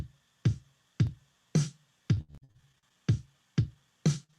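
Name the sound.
sequenced drum beat with snare hits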